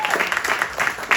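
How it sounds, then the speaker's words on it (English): An audience at a community meeting gives a brief, uneven round of clapping, a few louder claps standing out in a short spatter. "Clap for Deb."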